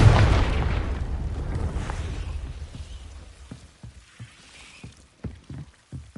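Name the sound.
Confringo fire spell explosion, video game Hogwarts Legacy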